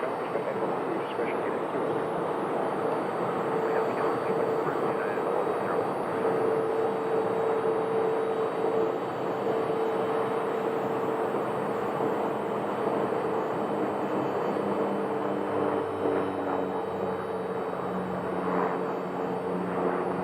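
A British Airways airliner at Phoenix Sky Harbor Airport, heard as a steady, fairly loud engine roar and broad rumble that holds throughout the clip, with no talk over it.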